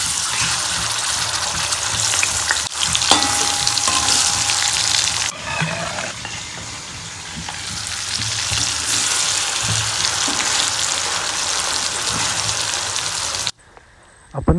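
Masala-coated madhura fish sizzles loudly in hot coconut oil in a pan, a steady crackling hiss that runs on continuously and cuts off abruptly at the end.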